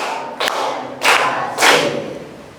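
A group claps in unison during a counting clapping game: three firm, thudding claps roughly half a second apart, each ringing briefly in the room over a low background hum.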